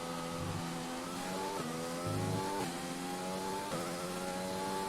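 A Formula 1 car in F1 2020 accelerates during practice at the Bahrain Grand Prix, its engine whining upward in pitch through several quick gear shifts, each one dropping the tone before it climbs again, steady and close.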